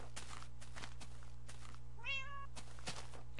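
A Minecraft cat gives one short rising meow in the video game, faint against a steady low background hum and scattered soft clicks.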